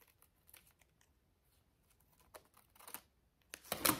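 Scissors snip through paper for a vintage junk journal collage, a few faint scattered cuts early on, then louder crisp snips and rustling paper near the end, with no talking.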